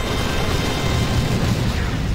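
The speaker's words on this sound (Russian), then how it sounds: "Давайте, взрывайте мачту." An explosion blows up a ship's mast in Call of Duty: United Offensive: a loud, continuous rumbling blast that fills the whole short moment without a break.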